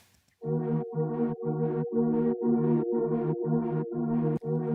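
A warm synthesizer pad plays a repeating pulsed chord pattern, evenly chopped into short sustained bursts with brief gaps, no voices.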